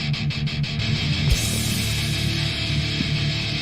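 Music track produced entirely in GarageBand on an iPad, with steady low bass tones and busy mid and high layers after a brief percussive opening, playing at a fairly loud level without any talk over it.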